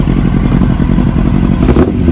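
Motorcycle fitted with a straight-through exhaust, rumbling loud and close with a dense, throbbing roar and slight surges in pitch near the end, with no voices.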